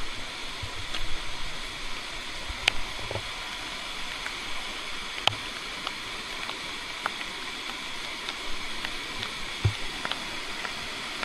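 Rain falling beside a Konkan village stream, a steady soft hiss of water with scattered sharp drips and taps on nearby surfaces.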